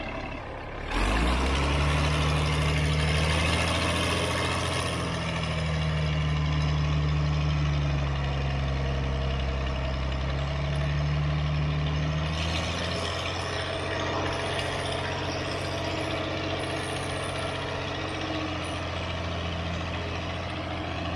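Diesel engine of an abandoned motor grader with flat tires rumbling loud and close as it strains to move backwards, a low steady drone that swells and then settles to a rough idle, with no talk.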